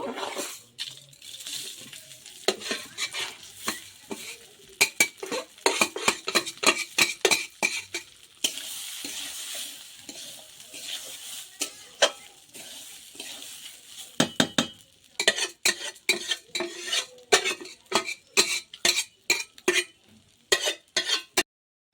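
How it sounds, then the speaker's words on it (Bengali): Gobindobhog rice is stirred and fried in ghee in a pan for basanti pulao, a spoon scraping the pan in quick, rhythmic strokes over a soft background sizzle, with a brief pause in the middle. "চালটা একটু ভাজতে হবে।"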